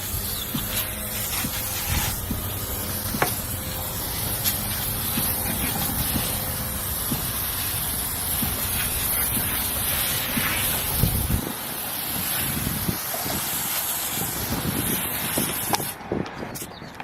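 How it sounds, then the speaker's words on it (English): Coil cleaner sprayed from an aerosol can onto an air conditioner coil, a steady broad hiss lasting throughout, close and fairly loud, with background rumble and no talk. "After you apply the coil cleaner, you should wait a little bit, let it soak in"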